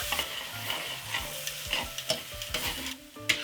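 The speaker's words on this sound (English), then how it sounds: "To deglaze the pan, I'm going to add just like a quarter cup of beef stock" Quarter cup of beef stock deglazing a hot pan with tomato paste for a Kenyan beef wet fry, steady sizzling under repeated sharp scrapes and knocks of a spoon stirring across the pan bottom.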